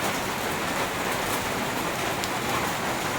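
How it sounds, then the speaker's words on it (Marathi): Steady, dense rainfall pouring down close by, a continuous hiss of drops hitting surfaces without any break. "दोन तीन दिवस झाला बघा नुसता पाऊस सुरू हो"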